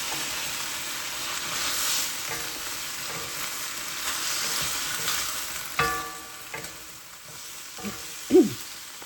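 Broad green beans with a miso flavouring cook in a pan, giving a loud, continuous sizzle and hiss. Scattered utensil scrapes and clinks from stirring grow more distinct toward the end, with no talking.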